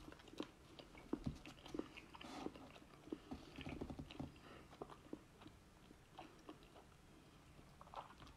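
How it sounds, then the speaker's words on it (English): Close, wet chewing and biting on a large gummy candy, a Rummy bear, with irregular soft crunches and squelches repeating throughout, fairly quiet and with no talking. "This is a big piece and difficult to chew."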